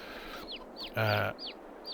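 Chickens cluck in the Farming Simulator 22 farm game, with short chirpy calls spaced through the moment and one louder, fuller cluck burst near the middle, fairly quiet overall.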